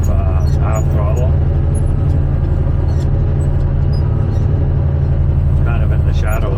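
A machine engine in first gear at half throttle while placing 20mm gravel along a curb, a loud steady low drone with constant rumble throughout, some faint clatter on top.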